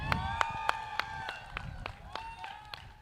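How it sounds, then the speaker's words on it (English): Audience at a corporate cricket league final gives a round of applause, with steady crowd clapping and scattered cheers, moderately loud amid a room's ambience. "Please give a huge round of applause for Alliance Bernstein"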